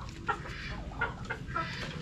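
Native chickens penned together on a farm, hens and roosters kept under a roof, give short clucks, about four close, clear bursts spaced through a steady low farmyard background with no talking.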